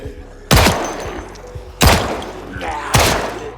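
Pistol shots fired at zombies in a video game, three loud, sharp booming blasts spaced about a second apart, each with a short decaying tail, close and prominent.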